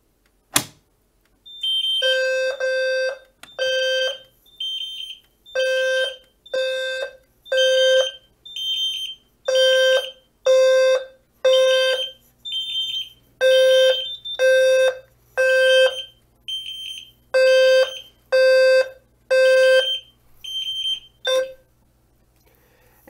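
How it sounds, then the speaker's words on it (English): A Simplex 4010 fire alarm system sounds after a pull station test, loud repeating electronic horn bursts in a steady pulsing pattern for about twenty seconds, preceded by a sharp click, with no talk. "And we've now stopped the alarms."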